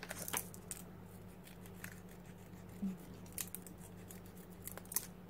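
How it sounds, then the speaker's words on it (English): Quiet, crisp snips of small curved nail scissors cutting paper, a handful of short cuts spaced irregularly over a low steady background hum. "now I'm taking nail scissors because they have a curve and it's just easier"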